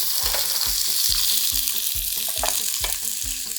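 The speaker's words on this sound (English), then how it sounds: "Add some olive oil to the pan. All right, we're gonna start off with the onions." Onions fry in hot olive oil in a pan, a steady broadband sizzle running throughout with a series of regular scraping stirs and clatters over it, close and fairly loud.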